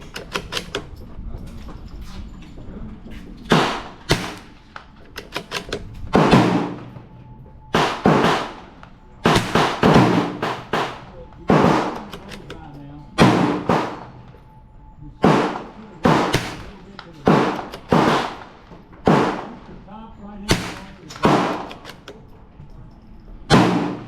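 .22 LR rimfire shots from a Ruger Precision Rimfire rifle at an outdoor range, many sharp evenly spaced cracks, each followed by a short decay, with no talk between them.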